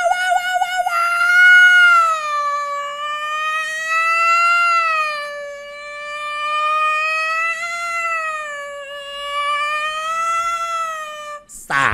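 A wailing siren rises and falls in long, smooth sweeps, loud and continuous with no other sounds, ending in a brief burst of noise.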